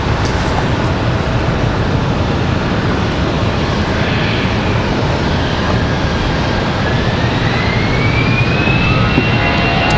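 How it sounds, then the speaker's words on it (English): An American Airlines Airbus A321 at Raleigh-Durham airport roars loudly and steadily with its jet engines, a dense wash of noise with a faint rising whine, and no voices. "the American A321, that's American 1888."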